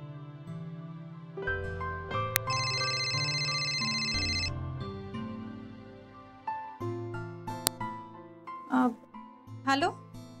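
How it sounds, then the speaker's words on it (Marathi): An electronic phone ringtone plays a bright repeating melody over background music in a Marathi drama scene, followed by short sharp sounds and brief vocal sounds near the end. "फोन वाजतोय"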